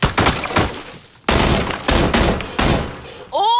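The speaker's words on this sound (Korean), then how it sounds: "제가 총소리로 대한민국 하면" Gunfire in the battle-royale game PUBG is tapped out in a patterned rhythm, short bursts separated by brief gaps, loud and close, ending with a few sharp whistling tones.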